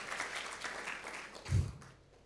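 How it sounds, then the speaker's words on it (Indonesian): Brief applause from a church congregation, soft steady clapping that lasts about two seconds, with a low thump partway through before it fades out. "Beri tepuk tangan buat karya Tuhan"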